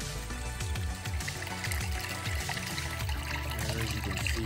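Water pours and trickles steadily from a hose during a pond water change, a continuous splashing flow heard up close without talk.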